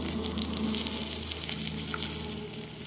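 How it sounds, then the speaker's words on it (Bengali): Onions frying with ginger garlic paste in a pan for a meat curry, a dense, continuous close sizzle with soft crackle throughout and no voices. "এবার সব কিছুকে একসঙ্গে নেড়ে আদা রসুনের পেস্টটাকে ভালোভাবে ভেজে নিতে হবে"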